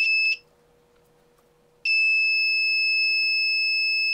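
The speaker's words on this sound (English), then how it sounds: "I'm connecting the negative to the negative and then this positive to the buzzer" A small electronic buzzer driven from an ESP32's 3.3-volt supply gives a steady, piercing high-pitched tone, sounding briefly at first, cutting out, then returning and holding continuously, loud and close with no talking.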